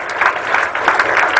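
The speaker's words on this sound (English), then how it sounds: "Can we give Derek a warm applause again?" Steady applause from a seated audience at a business seminar, a continuous patter of many hands clapping at even loudness throughout, with no voices rising above it.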